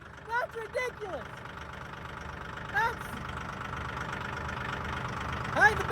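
A tractor engine idling smoothly with a steady low rumble, close by, while someone talks over it in short bursts.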